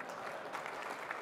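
Applause from a conference audience at a tech event, a short, moderately distant burst of many hands clapping at even strength.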